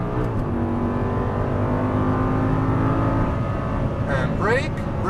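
An Audi R8 on the Exotics Racing Las Vegas track holds a loud, steady engine drone, then climbs in quick rising sweeps as it pulls after an upshift, with a voice talking over it.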